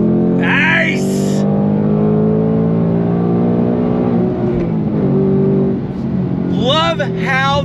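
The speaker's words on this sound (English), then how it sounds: "Love how the engine revs." A 2024 Ford Mustang Dark Horse V8 revs from inside the cabin, holding a loud, sustained engine drone whose pitch rises and falls, with short bursts of speech at the start and the end.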